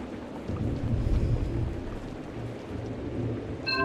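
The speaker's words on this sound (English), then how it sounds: "Oh yeah, it's thundering." Stormy weather in the horror game Distraint: a steady wash of rain with deep thunder rumbling low beneath it throughout, swelling slightly in waves, and a short bright chime-like sparkle near the end.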